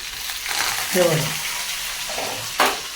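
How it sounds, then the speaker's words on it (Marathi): Hot oil sizzles and spits in a pan as chilies and curry leaves are tempered, with a brief louder crackle near the end and faint voices in the background. "मिरच्याचा तडका दिलेला आहे"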